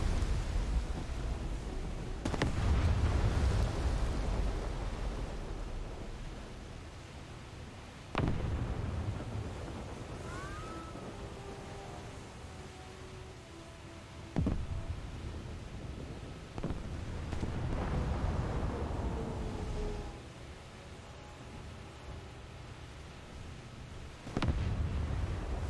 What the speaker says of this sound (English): Avoid cannon fire. It is bad for your health.